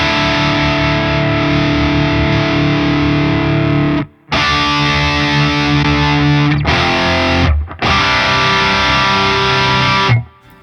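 Heavy distorted electric guitar runs through a Neural DSP Omega Granophyre amp plugin, thick sustained chugs and chords filling the sound, loud and close, with two brief stops where the notes cut off before resuming.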